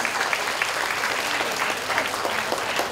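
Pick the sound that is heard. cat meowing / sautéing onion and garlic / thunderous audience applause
thunderous audience applause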